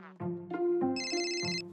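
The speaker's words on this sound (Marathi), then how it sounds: "राधाचाच फोन आहे." Phone ringtone, a bright electronic melodic ring of several clear tones, loud and close, playing alone.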